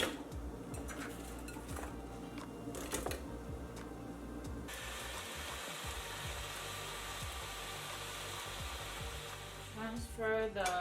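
Garlic and a whole onion sizzle in a pan for a spicy pepper sauce, a steady broadband fry that grows louder partway through, with a few utensil clinks and no talking.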